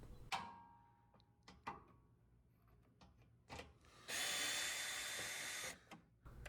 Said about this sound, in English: I'm using a drill with a 10mm bit